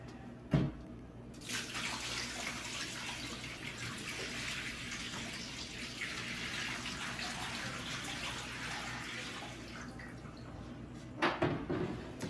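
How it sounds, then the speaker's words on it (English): Water from a Donjoy Iceman Clear3 cold therapy cooler pours steadily into a sink for several seconds, a constant splashing rush framed by a couple of sharp knocks at the start and end. "we need to go ahead and drain the water into the sink"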